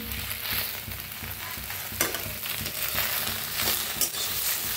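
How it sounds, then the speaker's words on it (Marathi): Okra being stirred and dry-roasted in a pan, a close crackling sizzle broken by sharp scrapes and taps of a spatula every second or two, without speech. "छान अशी हलवून ना भाजून घ्यायची भेंडी।"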